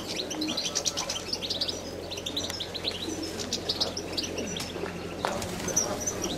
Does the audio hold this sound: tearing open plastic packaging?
no